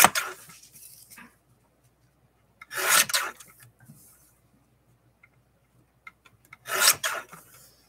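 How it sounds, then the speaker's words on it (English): Three separate bursts of rough rasping as sandpaper is rubbed across a surface to take sand off, each lasting about a second, close and dry, with quiet gaps between them. "Let's get a little more of the sand off."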